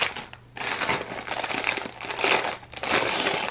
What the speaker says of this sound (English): So we have 4 bags. Can make a lot of noise.